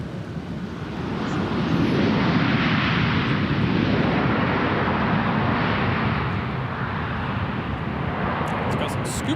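A former Northwest Airbus A320 jet airliner fitted with scoop thrust reversers roars past as a broad, loud, steady rumble that swells and then holds, with faint clicks near the end.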